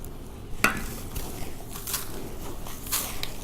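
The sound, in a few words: mixing bird breeding feed by hand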